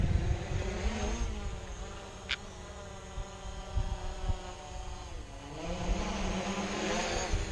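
A drone flies over an orchard, its small rotors giving a steady insect-like whine that rises and falls in pitch as it maneuvers, with a few light clicks and a passing higher tone.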